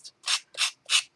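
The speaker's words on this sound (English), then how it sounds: "So that's with the sanding block, and it roughs up the edges a bit too" A sanding block rubs roughly along the edges of playing cards in three quick, close strokes, each a dry abrasive scrape in an even rhythm, loud and near with no voices.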